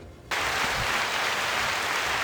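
A dense wash of crowd applause starts abruptly and holds at an even, loud level with no voices over it.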